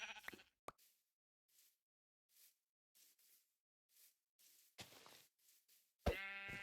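Sheep bleating in the game Minecraft, a series of short separate bleats spaced out with silence between them, ending on a louder, longer bleat.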